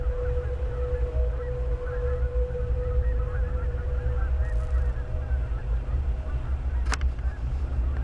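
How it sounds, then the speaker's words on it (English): A flock of geese keeps up a constant chorus of honking over a low engine-like drone, with one brief sharp click near the end. "I'm surprised the geese are still active."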